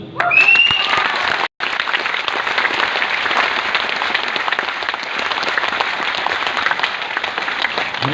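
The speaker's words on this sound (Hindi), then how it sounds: "तुमने अच्छे कर्म किए तो ताली बजाओ" An audience claps loudly and steadily for about eight seconds, with a dense, sustained wash of applause broken only by a momentary dropout.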